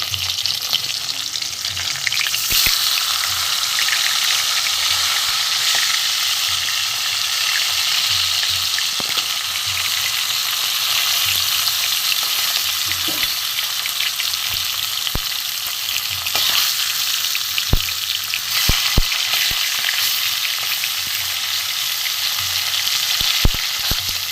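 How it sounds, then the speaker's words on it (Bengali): Turned pieces of vola fish keep frying in hot oil with a dense, steady sizzle and frequent crackling pops, close and loud throughout, with occasional scraping stirs. "মাছগুলো উল্টে দেবো।"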